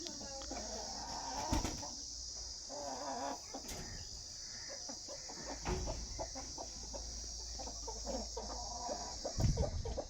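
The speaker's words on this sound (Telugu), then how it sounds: "అన్నీ డబుల్ బాడీ పెట్టలే హెవీ సైజ్ పెట్టలు" Heavy double-bodied hens at a poultry sale cluck in short, uneven bursts. Some calls sound close and others farther off, over a steady background hum.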